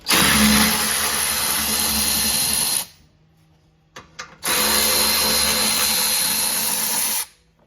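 A power tool whirs loudly in two long bursts of about three seconds each, removing 10 mm bolts from a 2015 GMC Yukon Denali XL front differential, separated by a short pause with faint clinks.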